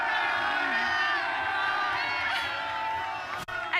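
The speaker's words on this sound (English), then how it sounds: "Can we give Victor a massive cheer?" Ryder Cup crowd cheering and whooping loudly and continuously for a marriage proposal, a dense roar of many voices with shouts, fading slightly near the end.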